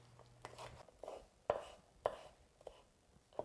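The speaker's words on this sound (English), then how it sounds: "we are going to simply just cut off the stems and cut the greens as if we would spinach" A knife chopping beet greens on a cutting board, a handful of separate quiet thuds spaced about half a second apart, close up against a soft background.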